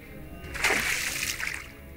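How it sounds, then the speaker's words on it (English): A magic jet of water whooshes and splashes past as a fantasy audio drama effect, a single swelling spray lasting about a second before fading, with no voices. "The jet of water flies harmlessly over my shoulder."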